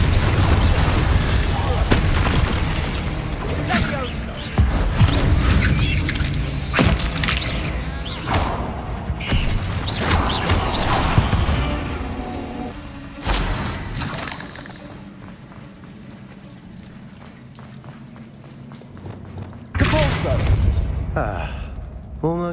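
Spell effects from Hogwarts Legacy, including an Incendio fire cast, burst and crackle in loud whooshing blasts amid other combat impacts, with a voice speaking between casts.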